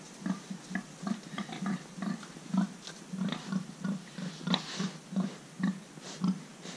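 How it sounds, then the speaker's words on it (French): Pig grunting on a farm in France, a steady series of short, close grunts in an even rhythm with no talk over them. "Et qu'est-ce que vous faites avec le cochon?"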